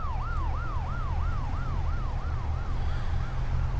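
An emergency services vehicle siren in the driving game City Car Driving wails in a steady, rapid up-and-down yelp, loud and continuous over a low engine rumble.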